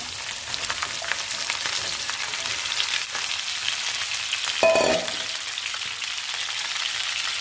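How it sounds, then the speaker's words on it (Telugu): Okra pieces fry in a pan with a continuous bright sizzle and crackle, steady throughout with a brief clatter and tonal clink around the middle, no talking. "బెండకాయ ముక్కలు వేసుకుందాం."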